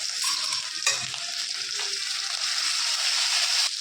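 Tomatoes hit hot oil already frying with cumin, green chili and ginger for an Odia potato mash, giving a loud, steady sizzle with brief stirring scrapes near the start, no voices.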